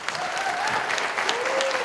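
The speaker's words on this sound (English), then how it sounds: "Let's give him a round of applause." Steady, dense applause from a live audience at a startup pitch competition finale, loud and continuous throughout with a faint whistle rising above the clapping.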